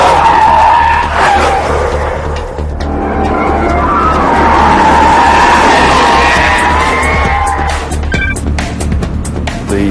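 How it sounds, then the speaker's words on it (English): High-performance race cars running flat out on Michelin tyres, with loud, continuous tyre squeal and skidding over roaring engines and a cheering crowd in the background. "when they take high-performance cars into full race mode against fellow tyre makers"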